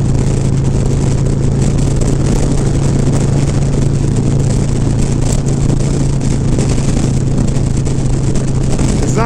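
A Harley FXR motorcycle engine runs smoothly while being ridden, a steady loud drone with wind rush that holds constant throughout, no talking over it.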